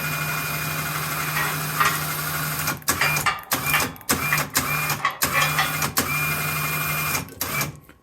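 An ATV winch reels its line back in with a steady, loud electric motor whine, broken by several short stops and restarts partway through.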